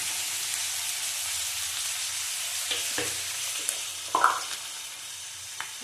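Chopped onions and chillies fry in a pan with a steady, loud, close sizzle, broken by a few soft clinks and scrapes as they are stirred; nobody speaks.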